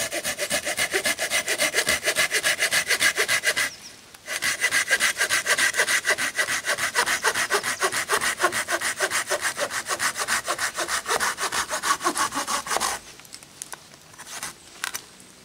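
Wet firewood is hand-sawn in a cave bivouac for a campfire. Close, loud, rhythmic back-and-forth saw strokes continue steadily, with one brief pause near the start, and stop near the end.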